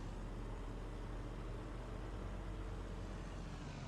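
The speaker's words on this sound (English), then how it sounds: "get the engine on" A vehicle engine in Farming Simulator 19 runs at a steady drone, a constant low broadband hum with no change in pitch or level throughout.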